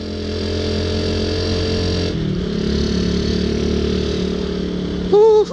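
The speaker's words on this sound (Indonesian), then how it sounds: "Tanjakannya bikin ngoper ini sih, ngoper nambah gigi, terus RPM nya nggak konstan ini." A motorcycle engine climbing a steep hill drones steadily, its revs rising and falling unevenly with a gear shift partway through, and a brief louder whine near the end.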